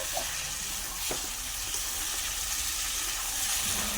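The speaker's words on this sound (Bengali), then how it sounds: "আর এবারে একটু হালকা জল দেওয়া হলো" Water splashes and trickles into a pot of braising mutton curry, a soft steady wash of liquid over low sizzling, fairly quiet and without talk.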